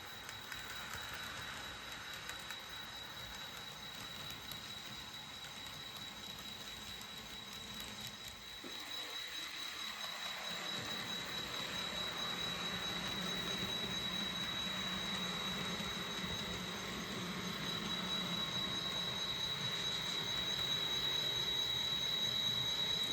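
A Santa Fe passenger model train rumbles along its layout track, the clatter growing steadily louder as it approaches, with a faint high whine throughout.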